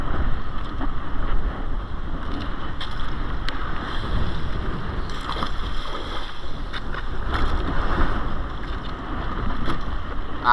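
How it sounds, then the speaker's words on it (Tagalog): Strong wind roars across the microphone over choppy sea water on a lobster net-fishing boat, a constant rushing gust with boat motion beneath it. "Grabing lakas ng hangin."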